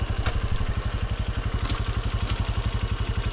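A motorcycle engine idles close by, its steady low putter thumping in an even rhythm throughout.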